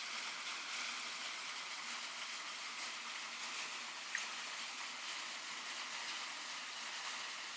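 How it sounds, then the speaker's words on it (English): Water flows beneath a large ice floe as a steady, faint, hissing rush, continuous and even throughout, with no voices. "the water is actually moving right below your feet"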